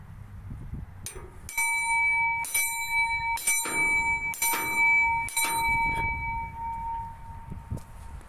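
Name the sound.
loud metal bell in park structure struck with lever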